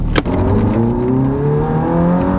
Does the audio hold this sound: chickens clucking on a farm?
no